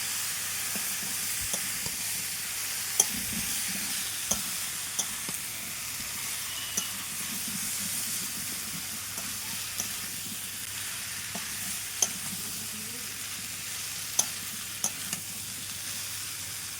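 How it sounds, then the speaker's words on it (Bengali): Potatoes and young jackfruit stir-fry with spices in a pan, a constant sizzle and hiss beneath intermittent sharp clinks and scrapes of a spatula, close by with no talking. "এবার আলু আর এঁচড় খুব ভালো করে কষিয়ে নিতে হবে মশলা দিয়ে"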